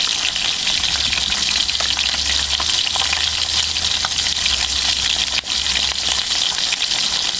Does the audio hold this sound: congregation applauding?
no